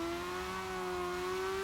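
A drift car in the CarX Drift Racing 2 video game, with tuned gear ratios and extra engine boost, holds a steady high-pitched engine whine that rises slightly, loud and continuous with no voices.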